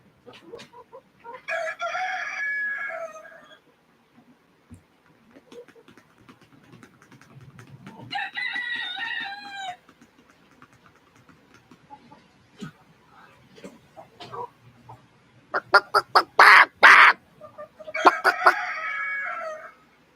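Hens and a rooster cluck and crow in bursts separated by quiet gaps, with a loud rooster crow and rapid clucking near the end, and a person speaking briefly between calls.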